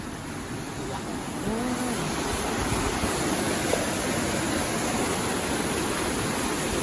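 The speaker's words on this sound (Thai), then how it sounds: "นี่เสียงน้ำ" Steady, dense rushing water from a weir fills the whole clip, a constant broadband roar with no pauses, in Chanthaburi, Thailand.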